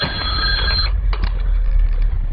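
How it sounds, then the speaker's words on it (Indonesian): A home landline telephone rings with a bright electronic tone under a dense low rumble of background sound, then cuts off and leaves a couple of faint chirps. "Seketika telepon rumah berdering."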